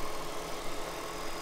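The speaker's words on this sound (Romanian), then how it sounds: "Deci motor în 4 cilindri" A 2024 Dacia Duster Hybrid 140 four-cylinder engine runs at a steady idle, a close, even hum with a broad mechanical whir and no voices.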